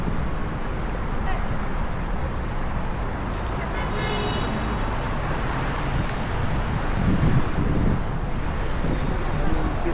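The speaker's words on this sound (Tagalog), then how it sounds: "Ito lang hangin." Steady wind buffeting a microphone outdoors, with a constant broadband rush of road traffic underneath and a brief tonal whine partway through.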